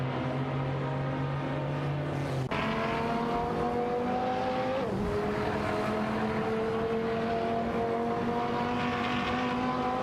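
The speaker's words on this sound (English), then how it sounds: "It's a showdown between the Aston Martin DB11 V12 and the Dodge Viper 8 TR8." Race car engines in a racing video game, an Aston Martin DB11 V12 and a Dodge Viper, droning loudly with steady tones that shift abruptly, then pitch up through gear changes as they accelerate.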